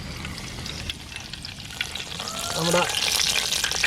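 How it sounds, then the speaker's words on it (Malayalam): Curry leaves hit hot frying oil in a pan and burst into a steady, close sizzle that grows louder toward the end, while a voice briefly speaks over it. "എണ്ണ തിളച്ച് വരുന്നുണ്ട്. ഓക്കെ, കുറച്ച് വേപ്പിലിട്ട്"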